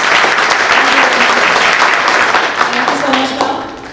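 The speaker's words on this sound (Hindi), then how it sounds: "एक बार जोर से तालियां इनके लिए" Sustained loud applause from an audience gathered on a Zoom event, a dense continuous clapping that fades slightly toward the end, with a voice faintly audible underneath.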